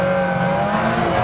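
A race car circles in a caravan race at the Arena Essex oval, its engine droning loud and steady at close range with a sustained tonal whine and no voices.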